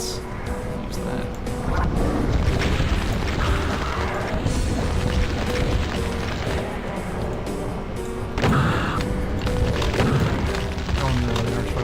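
Heavy rocket explosions and booming blasts in GZDoom, a version of the game Doom, rumbling loudly and almost without break, with a voice talking now and then over the combat.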